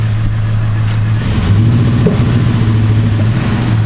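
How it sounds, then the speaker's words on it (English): A Chevy Avalanche truck's V8 idles steadily and smoothly, a close, loud low rumble with a continuous drone throughout and no talking. "I do love hearing that V8 start up though. Listen how smooth it's idling now."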